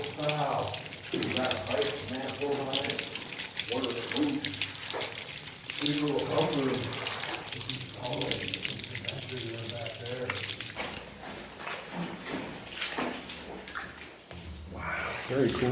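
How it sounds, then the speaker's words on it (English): Water pours and gushes steadily inside an underground passage near a small doorway where water is being pumped, a continuous rushing wash close by with people talking over it throughout. "Some water coming down here."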